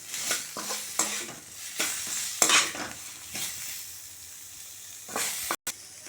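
Chopped tomatoes are stirred in a frying pan while making rasam, with a soft sizzle and repeated scraping clinks of a spoon against metal.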